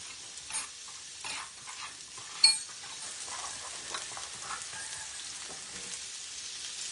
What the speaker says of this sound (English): I'm gonna put a little oil on here. And I'm gonna just drop all my mushrooms on here.